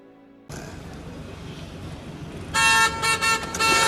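Steady road traffic noise at a green light, then a car horn blares loudly in several long honks close by.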